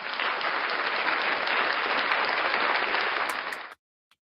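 Dense, steady applause from a group, close and loud, holding evenly for nearly four seconds before cutting off abruptly into silence.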